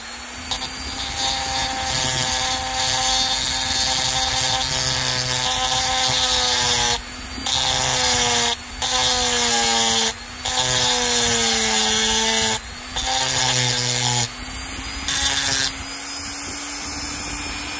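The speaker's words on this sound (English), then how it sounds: "Well, the Dremel will take it off." A Dremel rotary tool grinds steadily on M18 lithium battery cells, its loud whine dipping in pitch under load and pausing several times between passes.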